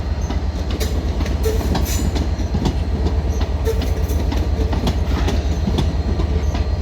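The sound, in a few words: Southeastern train pulling into London Victoria station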